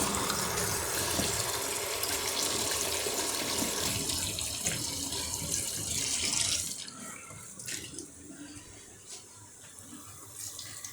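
Hot water poured into a cooking pot during home cooking of a fish and potato curry, a steady loud gushing stream that stops partway, leaving quieter trickles and clatter.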